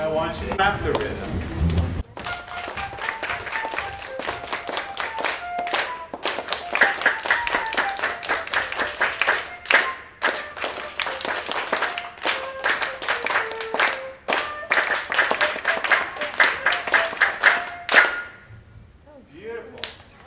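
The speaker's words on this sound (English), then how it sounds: "Now, this time, I want you to clap the rhythm." A group of students in a rhythm lesson claps out the rhythm of Yankee Doodle while it plays, crisp sharp claps in a patterned sequence over a melodic instrument, pausing briefly after two seconds, then continuing until fading near the end.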